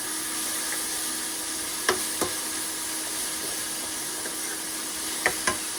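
Masala paste of garlic, ginger, onion and tomato roasts in a pan with a faint, steady sizzle and hiss, broken by a few sharp clicks of a spoon scraping the pan.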